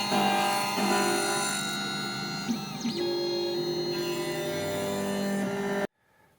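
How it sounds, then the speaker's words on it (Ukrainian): A key cutting machine cuts the blade of a Volkswagen Passat B7 key, giving a steady, close whirring grind with a faint scrape partway through, then stopping abruptly near the end. "Будемо нарізати другу сторону лежа ключа. Нарізаємо секрет ключа."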